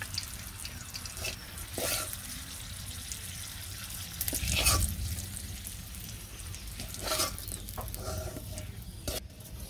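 Dungra gota vegetable frying with onion and green chili in a village kitchen, a low steady sizzle with scattered stirring scrapes and clinks.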